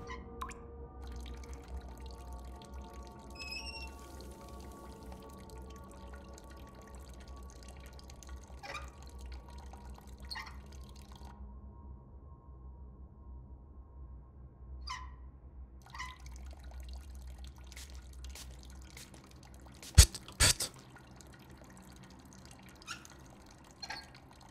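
Water drips slowly inside The Nightfall video game, single soft drops landing at irregular intervals over a quiet, low ambient hum, with a brief louder clatter near the end.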